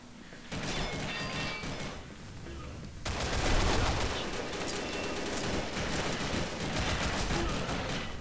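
TAR-21 assault rifle gunfire in a first-person shooter game, with a quieter stretch of shots, then dense, loud rapid bursts of automatic fire that continue for several seconds.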